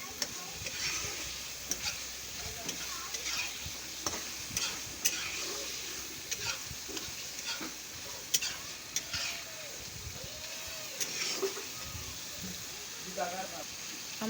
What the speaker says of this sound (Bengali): আবার একবার উল্টে পাল্টে নেড়ে নেব।